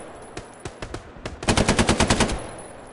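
Rapid gunfire in the World War II shooter game Hell Let Loose: a few spaced single shots, then a loud burst of about ten evenly spaced rounds that trails off, with no talk.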